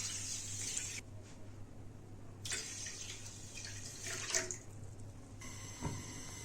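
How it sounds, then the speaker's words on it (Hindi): Water is poured into a pan of sugar to make syrup, a close, splashy trickle coming in short bursts with pauses between, quiet and alone. "2 कप इसमें पानी डालेंगे।"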